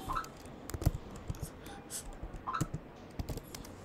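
Quiet, sparse keyboard clicks from typing on a computer keyboard, a few soft keystrokes scattered irregularly across a faint, low-level background.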